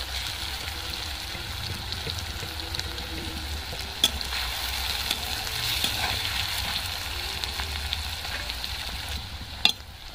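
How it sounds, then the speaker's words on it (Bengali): Steady sizzle of onions frying in oil, continuous and close, with a couple of sharp clinks from a utensil; no one speaks. "পেঁয়াজটা খুব সুন্দর করে ভাজা ভাজা করে নেব।"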